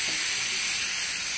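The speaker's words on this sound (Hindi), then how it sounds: "देखिए, भुनना शुरू हो गया है।" Spices and masala frying in a pan for palak paneer, with coriander powder and kitchen king masala added, give a steady close hiss and sizzle that holds evenly throughout, with no voices.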